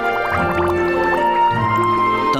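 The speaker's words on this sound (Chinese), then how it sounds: "用不同浓度的酱油和水做底，辅以清酒，倒入冰块中" A mix of soy sauce, water and sake is poured over ice to make a chilled soaking brine for abalone: a steady close-up trickle and splash with small clinks from the ice, and no voices.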